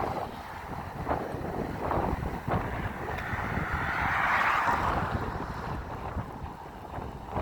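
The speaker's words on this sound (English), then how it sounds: "And it's real windy" Strong gusting wind on Maui buffets the microphone in a constant rough roar, swelling louder near the middle before easing, with no voices.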